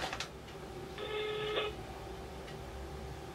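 Ringback tone on an outgoing telephone call: one clear electronic ring burst of roughly three-quarters of a second sounds midway, set against quiet room noise with faint clicks before it.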